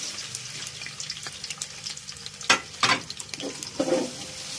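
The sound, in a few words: chopped onions frying in oil in a large pot for kabsa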